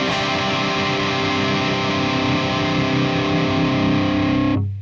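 Distorted electric guitar played through an amp with the presence turned all the way down and a blanket over the speaker cabinet front, one loud sustained chord ringing for several seconds before stopping abruptly, no voices.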